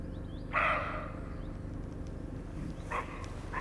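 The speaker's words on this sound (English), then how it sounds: "His barking calls prompt other animals to join in warning against the unknown source of the false mating call" A young buck deer gives sharp barking warning calls in a lush green forest. One loud harsh bark stands out near the start and two fainter barks follow later, over a steady backdrop of forest ambience.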